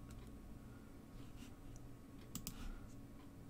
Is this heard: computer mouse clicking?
yes